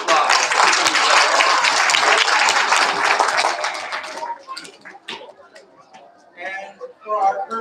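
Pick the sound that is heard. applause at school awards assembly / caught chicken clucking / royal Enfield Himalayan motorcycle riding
applause at school awards assembly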